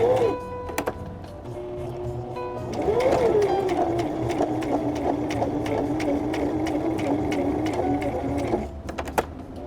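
Sewing machine back stitching quilt pieces, a steady rapid mechanical whir with clicking needle strokes, pausing briefly early on and then running continuously up close.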